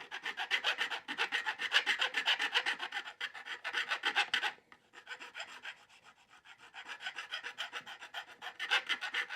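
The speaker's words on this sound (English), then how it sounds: "you can't hear the file taking any more material down" A metal file rasps back and forth across the fret ends of a handmade guitar neck in quick repeated strokes, close and clear, pausing briefly midway before the scraping resumes.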